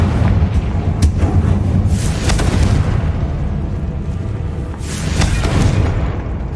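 A Confringo blasting spell from Hogwarts Legacy on PS5 erupts in loud, rumbling booms, with two or three bursts swelling over a dense, continuous roar.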